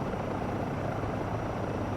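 A simulated Eurocopter EC135 helicopter in flight in Microsoft Flight Simulator 2024, a loud, steady rotor and turbine roar filling the whole clip without pause.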